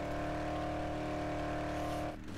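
A steady car engine droning while driving in the video game Dead Island Definitive, a constant loud hum that cuts off abruptly at the end, with no talk.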